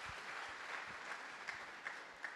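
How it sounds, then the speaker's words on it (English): Church congregation clapping after a prayer at a sermon, a soft, steady wash of many hands with a few sharper claps standing out, heard at a distance and fairly quiet. "Shall we clap for Jesus?"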